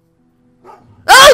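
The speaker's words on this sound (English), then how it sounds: "That dog attacked as soon as you entered your neighborhood." A dog in Goosebumps: The Game charges and attacks, a sudden loud snarling bark bursting in after a near-silent stretch with a faint whine just before it.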